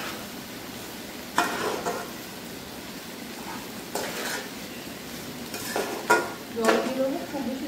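Spice paste of ground whole garam masala stirred into young jackfruit frying in a pan for a Bengali curry, with a continuous sizzle under repeated scraping and clinking stirs against the pan.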